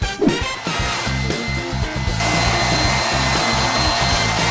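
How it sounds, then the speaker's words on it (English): An electric sander runs steadily and close on a narrowboat during a repair, a continuous whirring drone with no talk over it. "It's a lovely little sander, that, isn't it?"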